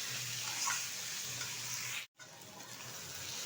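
Goat fat and spices fry in a pan for ghugni, giving a steady, close sizzle that drops out for a moment and then returns. No one speaks.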